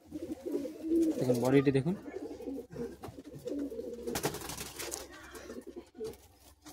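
Pigeons at a pigeon tournament coo softly in the background while someone talks nearby over them.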